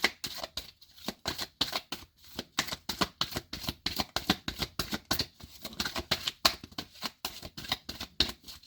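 Tarot cards riffle through a quick shuffle, about two dozen rapid, evenly spaced flutters heard close up with no talking.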